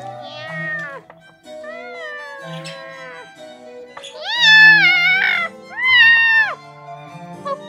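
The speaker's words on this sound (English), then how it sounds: "Oh, calm down, kitty." A cat meows loudly and insistently at close range in a home kitchen, a run of drawn-out, wavering calls with the last two the longest and strongest, and no talking.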